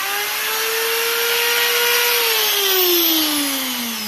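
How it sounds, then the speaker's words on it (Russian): A power drill runs continuously at a steady high whine while drilling into a clock, the motor pitch sagging slightly under load, with grinding, scraping noise throughout, close and loud. "Сейчас будем проверять дрелью."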